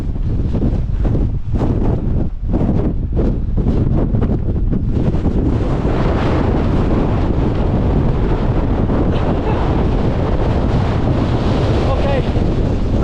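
Gale-force wind roars across a fell in the Langdales of the Lake District, buffeting the microphone in a loud, constant rush that swells and never lets up.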